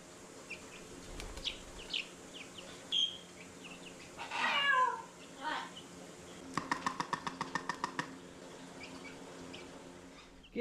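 A cat meows faintly outdoors in the snow, a few thin drawn-out cries, with a brief bird-like chirping and a rapid train of clicking taps later, all quiet and distant.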